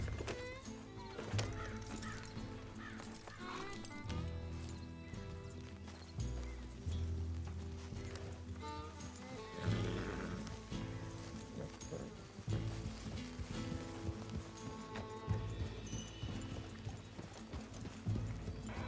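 Horse hooves clip-clop at a steady walking rhythm through Red Dead Redemption 2 gameplay, with an occasional neigh and whinny over a continuous layer of game ambience and music, moderately loud throughout.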